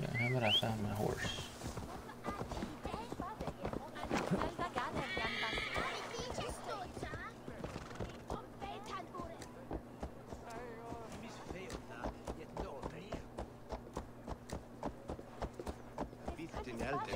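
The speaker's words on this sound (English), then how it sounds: "But I found my horse." A horse in the video game Assassin's Creed Valhalla neighs near the start, followed by a long run of rhythmic hoofbeats clip-clopping, under a continuous game soundtrack and someone talking.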